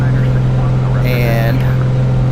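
A Comanche 250 aircraft engine in a flight simulator drones steadily as the plane climbs with a lean, slightly rough-running mixture, a constant loud hum with a brief higher whine midway.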